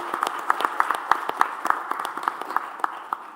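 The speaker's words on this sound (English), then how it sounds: "Can we have a round of applause for him?" A small group claps steadily in a fairly even rhythm at a corporate quiz semi-final, the claps crisp and moderately loud for a few seconds.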